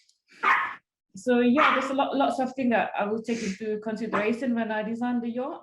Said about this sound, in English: Oops, sorry, that's the dog in the background.